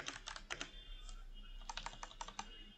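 Typing on a computer keyboard while entering text into an HTML document, with quick clustered bursts of key clicks close up, a short pause midway, and no voices.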